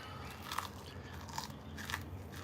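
Chippies corn chips crushed by hand for a hot dog topping, giving a steady crackling crunch with a few sharper crackles, close and fairly quiet with no talk.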